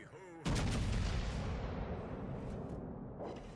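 A battleship's main guns fire in World of Warships: Legends, one sudden heavy boom that rolls on into a long, loud, dense rumble that slowly fades.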